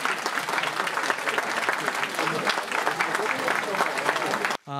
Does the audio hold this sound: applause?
yes